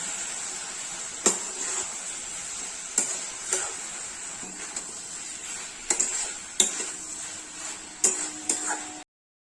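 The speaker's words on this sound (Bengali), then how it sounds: "এটাকে ভালো করে মিক্স করে নেব" Chilli chicken being mixed in a pan, a quiet steady sizzle under a series of sharp scraping clacks of a spatula against the pan, arriving irregularly every second or two.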